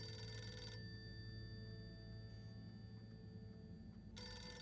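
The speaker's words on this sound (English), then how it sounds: "Where that phone come from?" A telephone ringing in the video game Harold Halibut, a bright electronic ring that sounds, pauses for a few seconds of low room tone, then starts again, moderately close.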